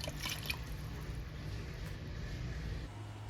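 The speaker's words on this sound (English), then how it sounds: "we're gonna add in some water, enough to make sure that our meat is covered" Water poured into a pressure cooker over meat for birria, a continuous liquid pour and trickle that runs steadily throughout, close and fairly loud.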